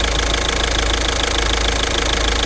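A car engine runs at a steady idle, close and continuous, with a low rumbling drone and a faint knocking throb throughout. No voices are heard.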